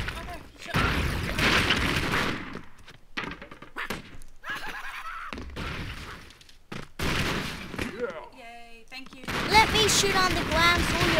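Gunfire and explosive booms from the side-scrolling action video game Expendabros, bursts of shots and thuds mixed with game music and effects, with people talking over the action throughout.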